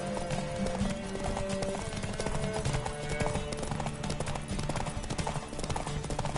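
Steady, rapid hoofbeats of a galloping horse in the video game The Witcher 3, loud and continuous, with a brief whinny mixed in.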